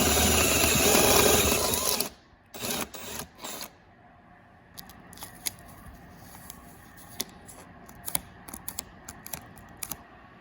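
A drill runs at full power for about two seconds, loud and close, as it widens a hole in a Ram Promaster van. Scattered clicks and small handling knocks follow once it stops.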